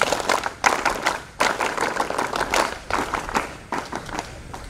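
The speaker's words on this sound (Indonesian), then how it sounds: "Tepuk pramuka." A scout troop's rhythmic group clapping at an outdoor opening ceremony of a scout camp on a beach, bursts of many hands clapping in a patterned beat with short pauses between phrases, fairly loud and close.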